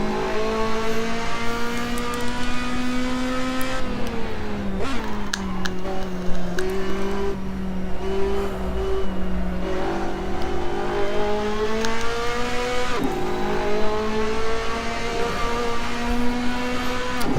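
Race car engine in the Assetto Corsa sim holding a steady high drone, pitch dipping as it shifts or lifts near 4 and 12 seconds then climbing again, with faint tire noise underneath; loud and continuous throughout.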